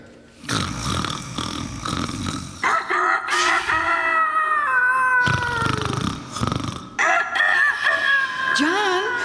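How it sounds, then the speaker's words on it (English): A farmyard rooster crows one long, loud, drawn-out cock-a-doodle-doo on a farm morning in the Green Acres sitcom, preceded and followed by other noisy bursts. "The rooster is crowing."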